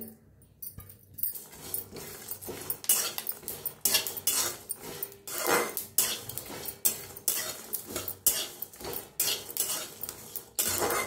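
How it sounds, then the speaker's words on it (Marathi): Whole spices (coriander, cumin, cinnamon, cloves, black pepper, fenugreek, sesame) dry-roasting in a pan, with a quick, busy run of metal spatula scrapes and clinks against the pan throughout, close and fairly loud, no talking. "सगळे खडे मसाले बटून भाजून घेऊया"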